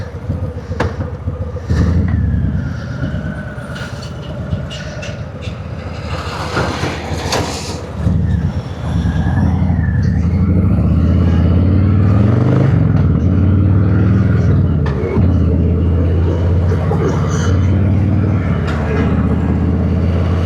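A vehicle cruises along the Delhi–Noida expressway with a continuous road and engine rumble and wind noise, steadier and louder in the second half, with some voice in the mix.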